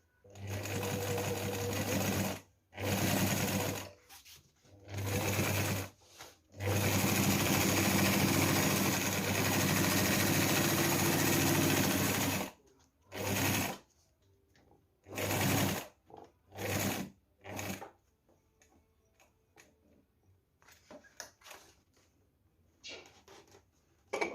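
Sewing machine stitching a knife roll, running in several loud bursts: a long steady stretch of motor whir in the middle with shorter start-stop runs before and after, then quieter handling at the end.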